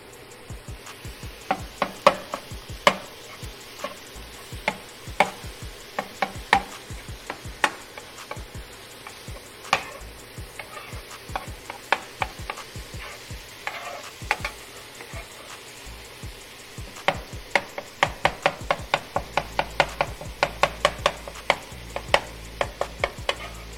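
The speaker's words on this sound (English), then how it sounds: "Chop it." A metal spatula chops chopped-cheese ingredients, onion among them, on a hot griddle. The blade strikes in rapid, irregular, close clacks, some in quick flurries, over a faint sizzle.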